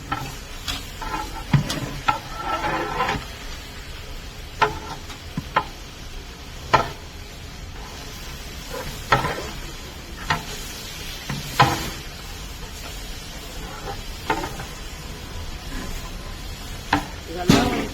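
Vegetables fry in oil in a large pot for biryani cooked in bulk, a faint continuous sizzle under repeated sharp clinks and scrapes of a stirring ladle.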